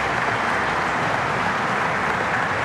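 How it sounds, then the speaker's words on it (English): Audience applause at the DjangoCon Europe 2023 closing session for the speech-to-text captioning reporters, a steady, dense wash of many hands clapping close and even throughout, with no voices over it. "can we give them a massive round of applause, please?"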